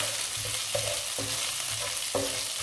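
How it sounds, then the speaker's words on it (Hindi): Ginger and garlic fry together in a pan for mutton korma, a close, even sizzle punctuated by several quick utensil scrapes and taps as they are stirred, with no talking. "आधा खाने का चम्मच लहसुन, दोनों को भून लेते हैं।"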